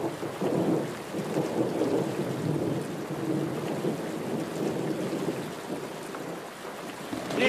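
Steady heavy rain hisses over a deep, continuous rumble of thunder, with no voices.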